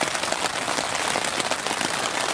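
Light, persistent rain patters outdoors as a dense, continuous hiss of drops on surfaces, fairly loud and unbroken, with no voices.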